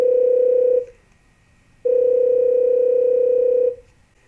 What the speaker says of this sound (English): you will hopefully hear the ringtone come through